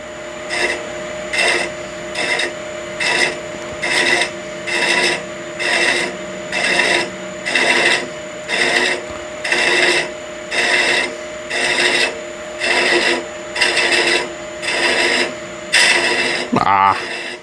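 Thread chaser cutting threads into a wooden salt shaker on a woodturning lathe, a steady series of about sixteen evenly spaced raspy scraping passes over a constant motor hum, close and fairly loud.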